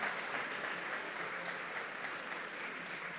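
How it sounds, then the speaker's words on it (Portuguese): A church congregation claps loudly for Jesus, a dense, sustained applause from many hands that fills the room and tapers slightly toward the end, with no distinct voices. "Tome seu assento batendo palmas bem forte para Jesus."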